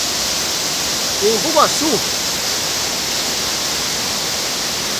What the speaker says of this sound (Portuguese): estamos aqui na Cachoeira das Três Quedas